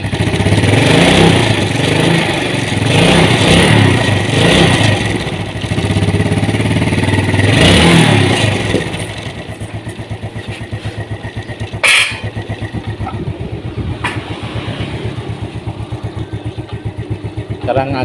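A Yamaha Vega motorcycle engine runs loudly with a steady rumble for the first nine seconds, then drops to a quieter idle-like hum with a brief click near twelve seconds.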